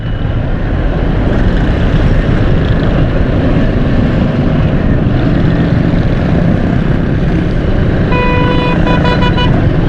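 A traffic jam at a U-turn on Jahangir Road near Teen Hatti bridge gives a loud, dense roar of engines. A burst of car horns honks repeatedly toward the end.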